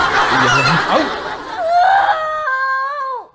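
A chicken squawks and cackles loudly and close up in a series of agitated calls, ending in a long, drawn-out, wavering cry that fades away.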